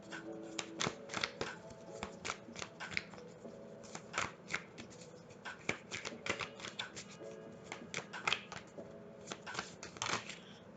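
Oracle cards are shuffled by hand in quick papery riffles and flicks, with bursts of sharp card slaps repeating steadily and close up, no talking.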